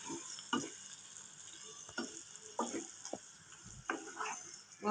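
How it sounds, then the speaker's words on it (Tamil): A spoon stirs mushroom masala as it fries in a pan, giving a steady sizzle broken by repeated scraping strokes at irregular intervals, close and fairly quiet. "இப்போ நல்லா கிளறி கொடுத்துக்கலாம்."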